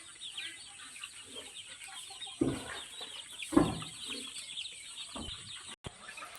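Chickens and small chicks on a poultry farm, scattered clucks and cheeps at moderate distance with a few louder calls standing out over a faint background of chirping.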